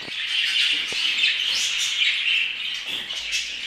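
Continuous high-pitched budgerigar chirping and twittering, close and fairly loud, with a few soft knocks and handling noises underneath.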